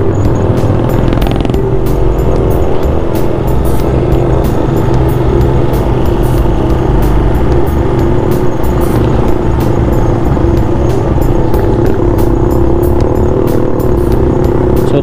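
A steady, loud mechanical rattle and whir of a worn chain on a Rusi big bike motorcycle running continuously, close to the microphone, with no talking.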